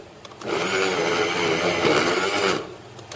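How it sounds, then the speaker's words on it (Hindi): An electric chopper whirs loudly for about two seconds, blitzing cooked chicken with potato, its motor starting after a faint click, holding a steady buzzing drone, then cutting off. "अब हम इसको चॉप कर लेते हैं 1-2 मिनट के लिए, ताकि ये सारा मिक्स हो जाए।"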